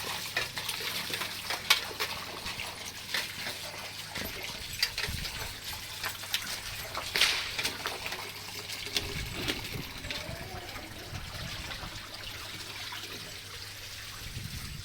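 Food items being washed under running water, a steady, moderately close trickle and splash with small irregular surges as the items are handled, continuing throughout.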